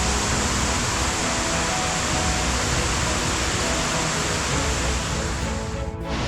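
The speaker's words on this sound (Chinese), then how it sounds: "上面是白丝瀑布，然后一直流下来，这边叫做小隐潭" The White-silk Waterfall at Xiaoyintan on Yangmingshan rushes down in a dense, constant roar of falling water, loud and close, filling the whole span without pause.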